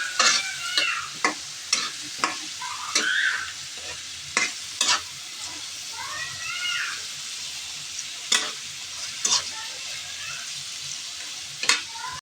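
An egg frying in a pan with a continuous sizzle, punctuated by sharp spatula taps and scrapes at irregular intervals, while a cat meows a few times nearby.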